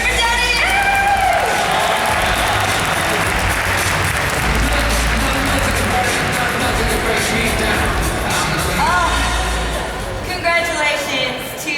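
Large audience at a professional storytelling event applauds and cheers, a loud sustained wash of clapping with whoops and shouts throughout, easing slightly near the end.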